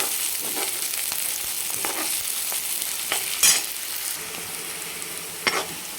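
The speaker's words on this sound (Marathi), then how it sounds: "कंटिन्यू आपल्याला याला ढवळत राहायचं आहे" Onion and ground masala fried in a pan and stirred without pause, a close, loud, steady sizzle marked by repeated scrapes of the spoon and a few sharper clinks, with no voices.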